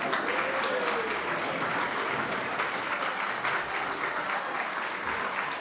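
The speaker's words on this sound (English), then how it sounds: "Let's give them a humongous round of applause." Sustained audience applause for award winners at the InDaily 40 Under 40 Awards 2020, a steady roomful of clapping with a few faint voices mixed in.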